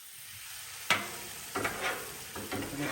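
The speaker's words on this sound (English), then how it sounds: "Kind of mix in this pesto sauce." Pasta and pesto sauce are stirred on a hot Blackstone griddle, a few scraping spatula strokes over a constant soft sizzle, close and moderately loud.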